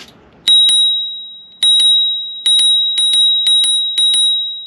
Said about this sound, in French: Vous avez également une sonnette intégrée qui fait très très bien le job.